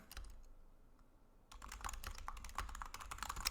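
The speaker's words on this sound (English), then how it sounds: "I'm just typing." Someone types on a computer keyboard, starting with a few light taps and then breaking into a quicker burst of close, crisp keystrokes with no talking.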